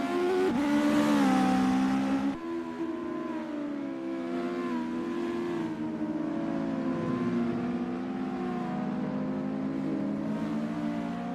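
A US Legend Cars race car engine in a racing game at Mid-Ohio, holding a steady, buzzing, high-revving drone near and loud, with its pitch shifting through gear changes.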